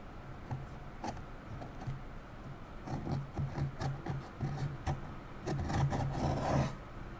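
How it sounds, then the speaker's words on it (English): Fingernails scraping excess hot glue off a miniature kit, giving soft, close rasping and rubbing strokes in irregular bursts that grow busier toward the end, with no talking. "I'm just scraping off some of the excess hot glue with my nails"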